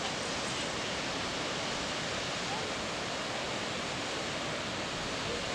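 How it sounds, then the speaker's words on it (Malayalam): A tall waterfall near Vagamon roars in a dense, unbroken rush of falling water, loud and steady throughout with no pauses. "വളരെ ഉയരത്തിൽ നിന്നുള്ള ഈ വെള്ളച്ചാട്ടം അതിമനോഹരമാണ്"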